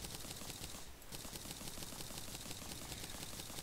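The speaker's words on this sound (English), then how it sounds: "You hear me clicking there" Dense, rapid mouse clicking during Terraria gameplay, a steady clatter of close clicks running throughout with no voice over it.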